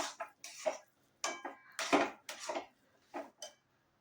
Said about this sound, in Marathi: हे बघा इथं मी कढई ठेवलेली आहे.